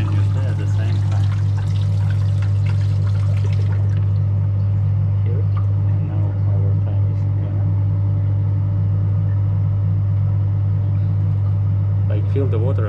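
Water pours into a small bucket from a fluid friction apparatus in a fluid mechanics lab, a close, continuous splashing that stops after about four seconds, over a loud steady mechanical hum from the equipment that continues to the end.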